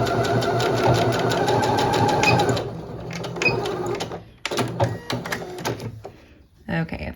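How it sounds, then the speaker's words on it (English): A sewing machine stitches back and forth on a fabric scrunchie, a rapid mechanical rattle running steadily for a couple of seconds, then stopping and restarting in short bursts, with someone talking over it. "And then I'm gonna go back and forth, take a few back stitches, and it will hold it in place."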